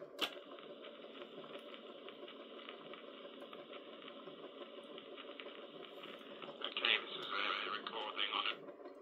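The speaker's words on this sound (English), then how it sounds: "So we're going to switch it on. Motor runs up." The motor of a Dictaphone Travel Master Dictabelt recorder runs steadily with a whirring, faintly ticking mechanical hum that grows a little busier toward the end.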